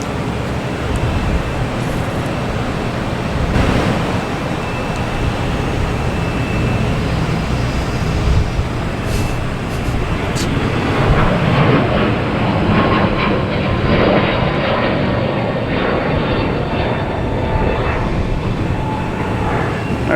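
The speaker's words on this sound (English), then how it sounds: "we have a Delta taking off, an A321neo heading to San Diego" Delta Airbus A321neo taking off at Boston Logan Airport, a loud, sustained broadband engine roar that holds steady and slowly shifts in tone as it climbs away.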